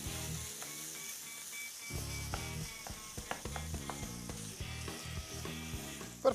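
Minced pork and beef browning over medium-high heat in a pan, giving a steady sizzle and frying crackle with occasional stirring clicks, all under background music.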